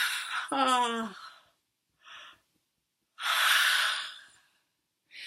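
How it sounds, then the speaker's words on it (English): A voiced groaning inhale like a yawn opens, followed by airy breaths in and out, one long and loud, close to the listener. "take a deep breath in. Open your mouth really wide and yawning."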